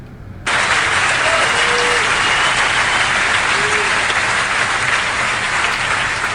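A George Carlin stand-up audience bursts into loud, sustained applause that starts abruptly and holds as a dense, even roar of clapping, with a few faint voices underneath.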